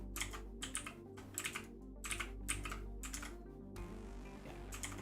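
Rapid bursts of computer keyboard typing and mouse clicking while modeling characters in Blender, close and crisp in irregular clusters, then a brief quieter stretch with a few scattered clicks.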